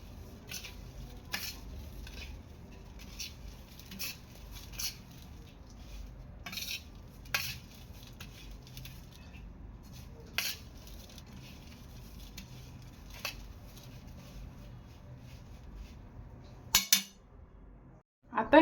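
A spoon mixing a dried tiny prawn salad (koshimbir) in a bowl, with intermittent close clinks and taps against the dish over a soft scraping patter, with a louder clatter near the end.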